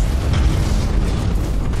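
Explosion in the space strategy game Battlefleet Gothic Armada 2 after a broadside: a loud, sustained low rumbling boom with dense bass, steady throughout without talk.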